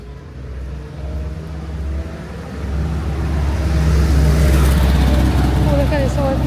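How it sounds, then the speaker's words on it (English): An old car passes close by on a street in a seaside town, its engine rumble building from a steady background hum into a louder, swelling pass near the end. "Oh, look at this old car."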